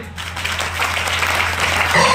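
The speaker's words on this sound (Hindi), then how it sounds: "मेरे ग्रेट मेंटरों के लिए जोरदार ताली होनी चाहिए" Audience applause after a motivational business speech at a Safe Shop event in Fatehabad, a dense, continuous clapping that holds steady and grows slightly louder toward the end.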